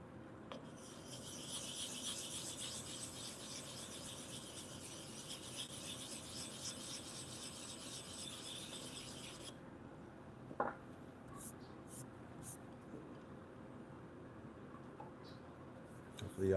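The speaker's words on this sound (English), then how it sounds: "Sharpening chisels or polishing chisels" Chisel sharpened on a whetstone wetted with rainwater, a steady close rasping and rubbing that runs continuously for about nine seconds, then stops, leaving quiet room sound with a few faint clicks.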